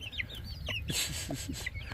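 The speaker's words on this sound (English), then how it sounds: "I think the Mr. Chick's going to be a rooster" Wyandotte chickens clucking nearby, a series of short, varied clucks and chirps over a low background rumble, with no talking.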